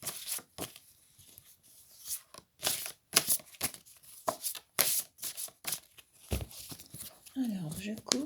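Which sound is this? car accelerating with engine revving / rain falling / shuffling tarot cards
shuffling tarot cards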